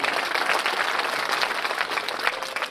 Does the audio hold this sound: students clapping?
yes